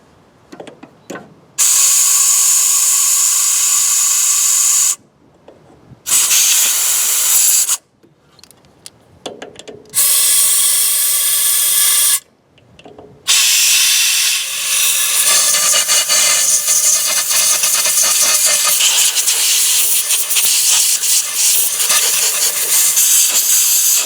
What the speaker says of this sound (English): And I'll blow up the main jets too.